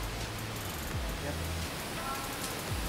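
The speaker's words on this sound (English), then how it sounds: "Oh yeah, it's raining with a beautiful view." Steady rain falls outdoors with a broad, even hiss and a low background rumble, while a person speaks briefly over it.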